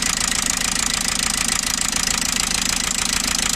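A rough-running engine with a seized fuel injector, giving a steady, loud, fast knocking pulse that continues without a break and with no voices over it.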